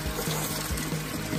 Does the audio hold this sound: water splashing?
yes